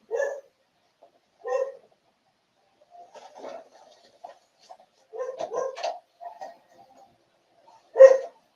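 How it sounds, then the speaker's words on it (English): Dogs bark in short, sharp bursts with irregular pauses, loud and close. One bark near the end is stronger than the rest, and a few softer yips and whines come in between. "excuse my dogs"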